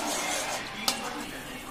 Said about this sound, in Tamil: போட்டு நல்லா கிளறி விட்டுருங்க.